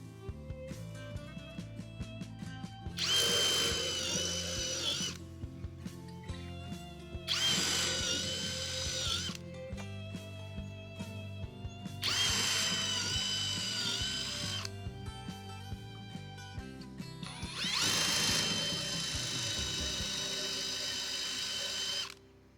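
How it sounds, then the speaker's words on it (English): A power drill with a small bit bores through a timber deck for a pony railway track, running in four long loud bursts separated by brief pauses. "now I'm just plunging right on through with the little drill bit"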